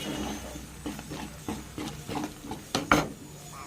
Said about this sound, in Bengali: পেস্টটা দিয়েছি, এটা দিয়ে নেড়ে নেবো।